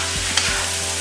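Egg frying in a pan with noodles nearby, a low steady sizzle with a couple of soft stirring scrapes and a faint tap of the utensil.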